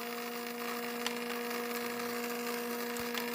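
A Side Winder bobbin winder motor hums steadily after switching on, a constant close electric drone with faint light ticks and no speech.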